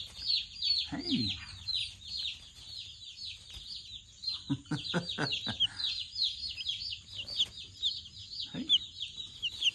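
Chicks chirp high and constantly close by, while a bird taps the camera in a quick run of sharp pecks and a person speaks briefly.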